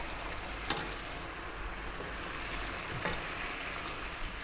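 Eggplant in a tomato sauce sizzles steadily in a pan, a soft continuous frying hiss with a couple of faint clicks of stirring.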